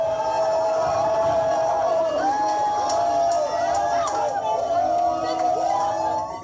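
A large crowd boos and jeers in a sustained, wavering chorus that carries on without a break.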